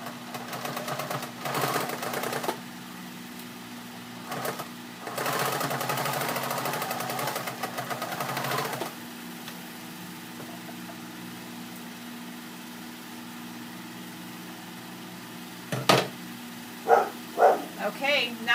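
A sewing machine stitches recycled denim in short bursts, each a few seconds long, with pauses between them and someone talking near the end.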